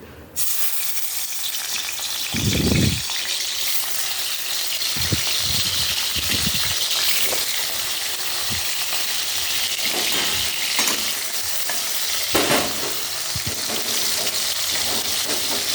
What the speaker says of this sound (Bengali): তেল আমার গরম হয়ে গেছে, এবার আমি মাছ ছাড়ি তেলে।